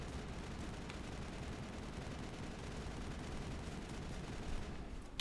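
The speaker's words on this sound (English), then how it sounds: "I'm just shooting the ground." Sustained gunfire from the Mass Effect video game, a dense, continuous barrage of rapid shots forming a steady wall of noise with a few sharper cracks, loud throughout and with no talking.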